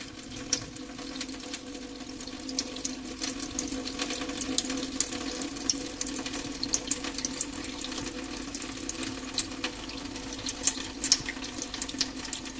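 Steady rush of water running along a stone irrigation channel, the old acequia that fed the Gando lazaretto, a continuous close, even flow with bright splashing texture and no voices.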